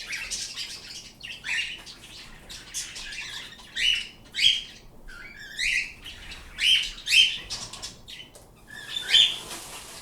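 Small pet birds weighing about 100 grams give repeated high chirps and squawks in irregular bursts, close and moderately loud over a quiet indoor background, with no talking.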